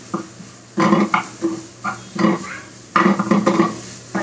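Homemade paneer is sautéed with spices in a pan, heard as intermittent scraping and clinking of a spatula against the pan, close and fairly loud, with no one talking.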